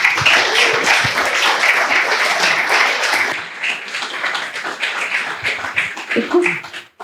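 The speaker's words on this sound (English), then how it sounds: "Big round of applause again." Audience applause at a product release event, a sustained burst of many hands clapping that is loud at first, eases slightly midway and tapers off at the end.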